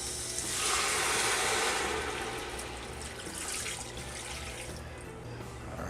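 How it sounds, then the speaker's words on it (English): Tap water gushes steadily into a cooking pot for making chicken soup, a broad hiss that swells and eases slightly over several seconds, with no talking. "now we fill this with enough water to cover the wings"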